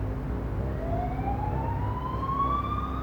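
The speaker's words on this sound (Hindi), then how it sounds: "एम्बुलेंस आ गई है।" A distant ambulance siren rises steadily in pitch over a low rumble of traffic, faint and continuous.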